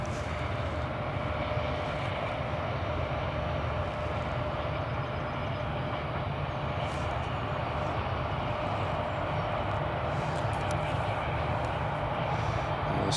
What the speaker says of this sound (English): Qatar Airways, Airbus A350, Alpha 7, Alpha Lima Delta